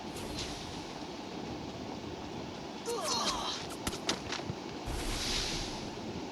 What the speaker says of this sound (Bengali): চলে গেল ট্রেন।